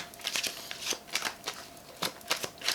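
A newly bought oracle card deck being shuffled by hand, with quick papery riffles and slides in irregular bursts, close and fairly quiet with no talking.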